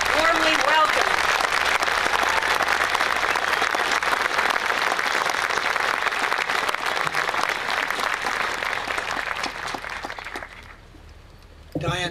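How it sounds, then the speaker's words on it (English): A crowd gives a big round of applause to welcome a speaker, loud sustained clapping filling the room for about ten seconds before dying down, followed by a brief voice at the very end. "give him a big round of applause"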